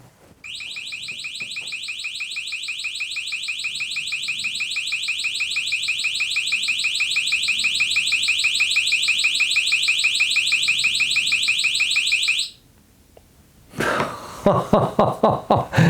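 A loud, piercing 130 dB electronic alarm from a Nextorch ND30B flashlight distraction device shrieks steadily for about twelve seconds, then cuts off abruptly, followed by close clicking and handling noises.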